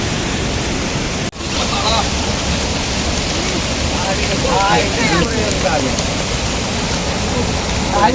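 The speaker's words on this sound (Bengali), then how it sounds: "এই দেখুন জোরে বৃষ্টি চলে এলো" Heavy rain pours down in a dense, continuous roar close by, with faint voices underneath.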